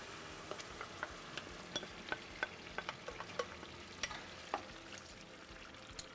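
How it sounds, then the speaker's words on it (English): Blended tomato, bell pepper, ginger and garlic sauce simmering and sizzling in a pot for jollof rice, a quiet steady crackle with small irregular bubbling pops throughout, no voices. "And let it simmer"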